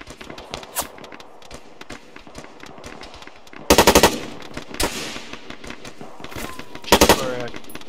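Machine gun fire in a video game, with short bursts of rapid shots and two loud, dense bursts near the middle and end of the clip, over steady game noise and faint footsteps.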